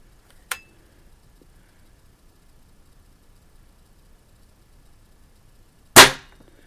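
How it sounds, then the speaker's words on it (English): Two sharp shots from a Stoeger S3000 C air rifle firing inexpensive Crosman hollow point pellets: a faint crack early, then a loud close snap several seconds later, with near silence between. "we're shooting inexpensive Crossman hollow point ammunition"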